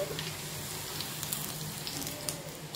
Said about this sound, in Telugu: గోల్డెన్ బ్రౌన్ కలర్ వచ్చేంత వరకు వేయించుకోవాలి.